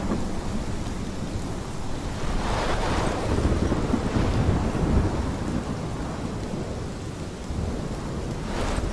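A heavy thunderstorm in the video game Life is Strange: steady rain and wind with rolling rumbles of thunder building and swelling, loud and continuous, with no voices.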